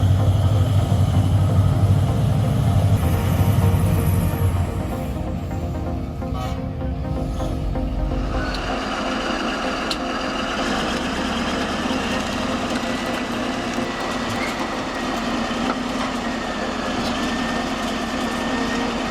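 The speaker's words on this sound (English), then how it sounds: "The Caterpillar D11N advances, its massive engine roaring" A massive Caterpillar D11N bulldozer engine roars steadily at close range, a deep rumbling drone with heavy low-end that shifts and thins partway through, then holds as a continuous loud grind.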